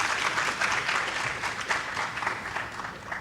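A theatre audience at a university TheatreFest applauds a student show, steady dense clapping filling the room at a constant level throughout.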